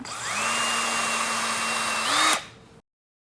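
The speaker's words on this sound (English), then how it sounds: "Just going to drill a hole through the chocolate." A power drill whirs steadily at close range, drilling a hole through chocolate, its pitch rising briefly near the end before it winds down and stops.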